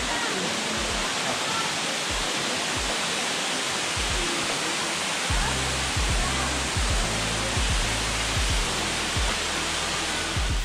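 Water pouring steadily into the natural sea pools at Porto Moniz on Madeira, a loud, unbroken rushing roar with low buffeting thumps beneath it.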